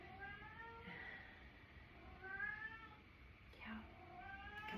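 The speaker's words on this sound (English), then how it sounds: "got some good cat accompaniment going on here" A cat meows again and again during a quiet chair yoga session. The meows are faint, drawn-out cries with short pauses between them, set against a soft room background.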